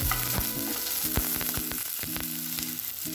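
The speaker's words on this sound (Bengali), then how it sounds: "এরপর আমি কুচিয়ে রাখা পেঁয়াজগুলো এর মধ্যে দিয়ে দেব। এখন খুব ভালোভাবে নাড়াচাড়া করে নেব।" Chopped onions and nuts frying in hot oil for a broccoli bharta, stirred with repeated utensil scrapes and knocks against the pan over a steady close sizzle, with no voices.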